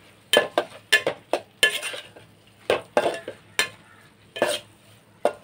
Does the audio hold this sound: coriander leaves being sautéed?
yes